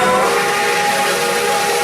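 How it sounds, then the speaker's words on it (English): A loud, sustained model train whistle with a hissing, breathy tone holds steady throughout, close and unbroken. "And hear that whistle?"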